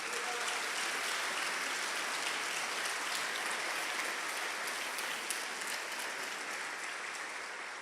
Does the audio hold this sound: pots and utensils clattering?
no